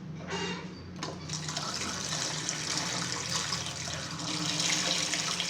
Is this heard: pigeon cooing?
no